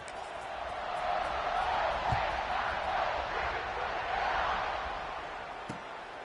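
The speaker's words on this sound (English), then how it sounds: "this crowd is feeling themselves after that last drive" A stadium crowd in a college football video game roars in a broad, steady wash of cheering, swelling slightly in the middle, with a commentator's voice talking over it.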